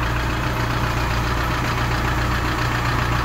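Kia Bongo 3 engine idling steadily after a valve seat repair, an even mid-low rumble with a regular beat, close and continuous with no voices.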